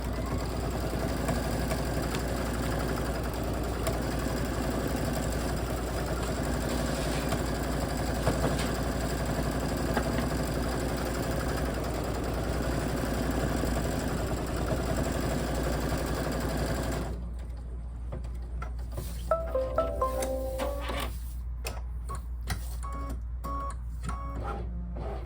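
Computerized embroidery machine stitching a Kimberbell sampler design on fabric, a steady close mechanical hum with rapid needle chatter for about seventeen seconds, then stopping and leaving quieter clicks and light handling noises.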